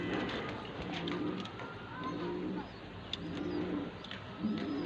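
Sialkoti and Firozpuri female pigeons coo repeatedly in soft, rolling phrases, close by over a steady background hum.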